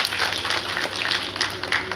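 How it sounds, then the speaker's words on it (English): Applause from an audience at a PICA Jamaica event, heard as moderate, uneven clapping with distinct individual claps standing out over a low steady hum. "Give them a round of applause, please."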